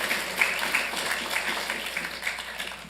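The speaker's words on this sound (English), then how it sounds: "Let's give a big round of applause for my colleague and declaring May as Asian Pacific Islander Month" Applause from a city council meeting audience, a steady moderate patter of clapping throughout, with a few sharper claps standing out.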